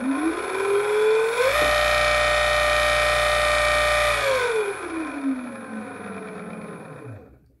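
An electric motor driven by a VESC-based Xfoc V2 controller spins up with a rising whine, holds a loud steady electric hum with strong tonal harmonics, then winds down in a falling pitch that fades out, close and alone.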